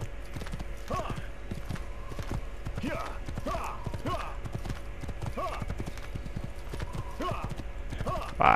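A horse gallops in the video game Assassin's Creed, with rapid, even clip-clop hoofbeats running steadily and close throughout, and a brief whinny-like sound near the end.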